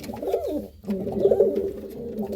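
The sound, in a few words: Silver Sirazi pigeons cooing in a cage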